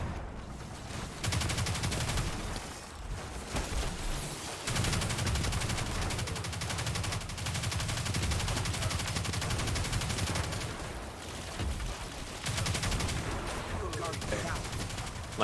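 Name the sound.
sniper gunfire in video game Destiny 2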